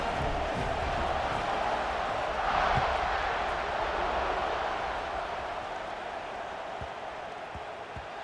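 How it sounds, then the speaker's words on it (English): A stadium crowd murmurs and buzzes in a college football video game before a kickoff, a broad continuous roar that swells briefly near the middle and then eases off, with a few faint thumps underneath. "this crowd is buzzing after that last score"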